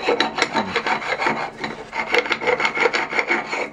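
Rasp-like scraping from deburring the back side of a drilled hole in metal during a Datsun 521 ball joint modification, heard as close, steady rhythmic strokes repeating quickly throughout.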